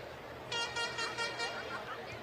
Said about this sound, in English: Air horn goes off.